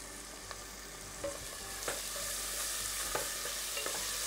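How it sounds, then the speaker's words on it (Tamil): Onion, tomato and green chili sauté in oil in a pan as the base for a mutton curry, giving a steady close sizzle broken by a few sharp clinks of stirring, with no talking. "இது நல்லா சுருண்டு வர அளவுக்கு நல்லா வதங்கட்டும்"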